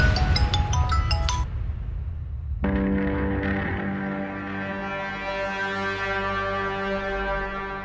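A repeating electronic ring tone with sustained tonal notes plays on without pause, with no one answering or speaking.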